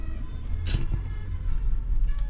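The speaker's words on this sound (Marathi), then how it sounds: "तर मित्रांनो आता गाडी आपण आतमध्ये टाकत आहोत" A black car pulls in to park, its engine giving a steady low rumble close by, with a brief hissing burst partway through and no voices.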